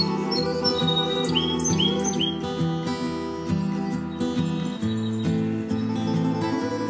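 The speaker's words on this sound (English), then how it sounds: "There's a sweet little bird singing outside while I'm making this cake." Small bird chirps, high and bright, come in short bursts from outside during the first few seconds, mixed with a steady background of music and kitchen noise.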